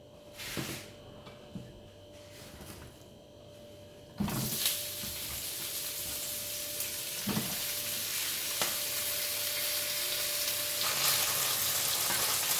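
Cod hits hot oil and a steady, loud sizzle takes over, crackling continuously with occasional pops and a faint hum underneath.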